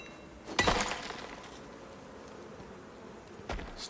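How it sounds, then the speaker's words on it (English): Bees in a video game buzz in a cave while iron is being mined, in two short, fairly quiet bursts separated by a few seconds of near silence. "Stay back there, bees."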